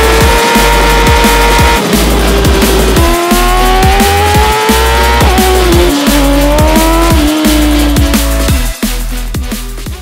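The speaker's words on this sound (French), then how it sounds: "on va pouvoir pousser simplement cette moto à 300 km/h et plus" BMW M1000RR motorcycle at high speed on a German road, its engine screaming loud and close, pitch climbing through each gear with sharp brief breaks at every upshift, over steady wind roar.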